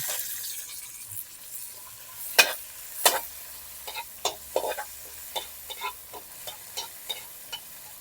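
Tomatoes sizzle and are stirred in a pan, soft frying crackle under a series of sharp scraping and clinking stirs at irregular intervals, close and fairly quiet.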